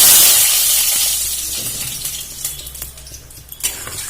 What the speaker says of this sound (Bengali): আমি এর মধ্যে দিয়ে দিলাম অল্প একটু জল